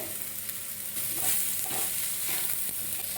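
Potatoes being stirred and mixed with chaat masala in a pan for a homemade snack: a steady soft scraping and sizzling texture, close and fairly quiet, without speech.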